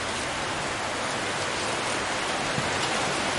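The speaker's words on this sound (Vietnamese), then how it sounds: "mưa to thế nhở" Heavy rain pours steadily in the mountainous northwest of Vietnam, a dense unbroken hiss of drops drumming on surfaces close by, loud and constant throughout with no voices.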